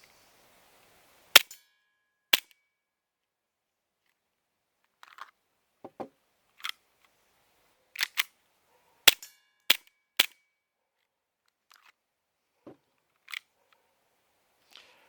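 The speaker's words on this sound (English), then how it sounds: "we're just going to try and shoot the rest of the mag" A Cybergun FN Five-Seven airsoft pistol fires off the remaining rounds of its magazine as about a dozen sharp, close snaps, spaced irregularly with pauses and some quieter clicks between, and no talk.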